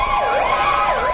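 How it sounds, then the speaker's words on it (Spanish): Ambulance sirens wailing at a street protest in Egypt, a loud rising and falling electronic wail sweeping in steady cycles with no talk. "Las ambulancias no han parado de sacar heridos"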